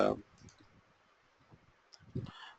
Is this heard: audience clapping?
no